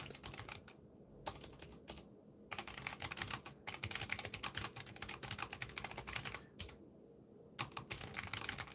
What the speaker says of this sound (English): I'm just typing a few things because I'm trying to create something here